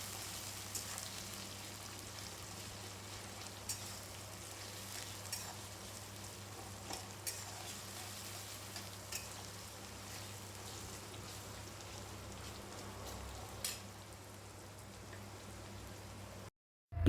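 Chopped onions fry in a pan while being stirred until brown for a chicken curry, producing a faint, steady sizzle with soft scraping taps from the spoon now and then. A low hum runs underneath throughout.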